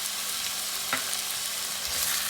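Chicken seasoned with paprika, ground fennel, cumin and salt fries in a pan with a steady broadband sizzle, broken by a single brief scrape of stirring near the middle; no talking.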